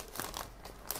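A plastic bag holding Eduard 1/48 Fw 190A-6 model kit decal sheets is opened, giving a few close, quick crinkling and rustling bursts in about a second.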